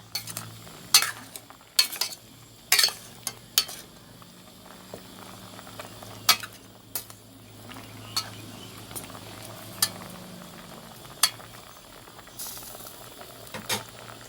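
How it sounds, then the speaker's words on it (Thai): Tom kha gai soup bubbling at a steady boil in a pot, a low continuous simmer broken by scattered clinks of a spoon or ladle against the pot, close by with no talking. "เดือดแล้วเดือดแล้วนะคะ"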